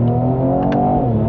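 A 2019 Mercedes-AMG E43 with a 3.0-litre twin-turbo V6 revs loud and close in Sport Plus mode in second gear with the exhaust valves open, giving a steady, throaty engine drone.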